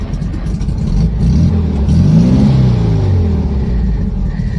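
A 1965 VW Karmann Ghia engine turns over and runs, giving a loud, close rumble that swells into a rev and then settles into a steady idle.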